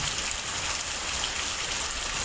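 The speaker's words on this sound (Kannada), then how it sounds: "ನೋಡಿ, ಜೋರು ಮಳೆ ಬರ್ತಾ ಇದ್ದಿತ್ತು" Steady, dense rain pours down continuously, a loud broadband hiss of drops drumming on surfaces with no voices.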